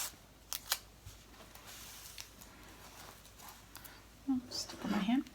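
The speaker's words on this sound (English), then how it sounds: "I'm going to use these small scissors, and I am going to just cut around the design." Small scissors snip around an in-the-hoop embroidery design, giving soft, scattered close-up cuts and clicks over a quiet room, with a low voice speaking near the end.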